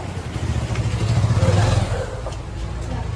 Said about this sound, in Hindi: हम लोग बाइक से निकले